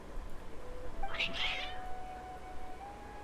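Cats meowing in the Genshin Impact video game, a couple of short agitated meows over quiet background music and ambience, with no speech.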